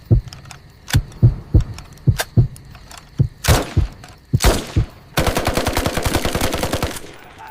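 Rifle gunfire rings out in sharp, loud shots, first spaced single cracks, then a denser volley, and finally a rapid sustained burst of close automatic fire.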